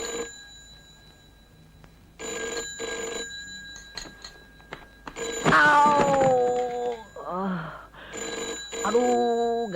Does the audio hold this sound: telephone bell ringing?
yes